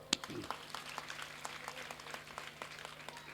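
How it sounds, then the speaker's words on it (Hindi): Scattered, fairly faint clapping from listeners at a Hindi religious discourse, a loose patter of individual claps over a steady low electrical hum in the hall. "उकर मन बर ताली बजाओ"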